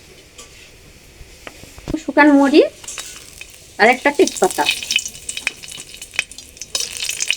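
Mustard oil sizzling and crackling in a pan with spices and occasional utensil clinks, while a person speaks in short phrases over it.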